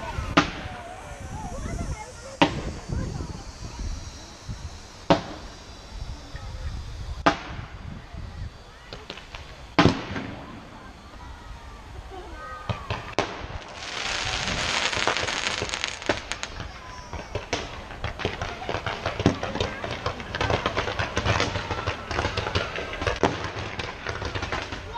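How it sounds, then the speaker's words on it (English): Pyrotechnic rockets burst one after another in a staged naval battle display at a seaside harbour in Bridlington, sharp booming thuds echoing across the water, then a dense crackling barrage, with a voice narrating over the outdoor crowd. "The cruisers rockets pound onto the harbour."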